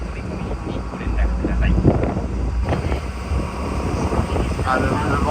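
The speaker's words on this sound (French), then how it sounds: "Ah, le vent là, c'est violent" Strong wind blows across the microphone in an old town, a loud rumbling buffet that swells and fades while people talk over it.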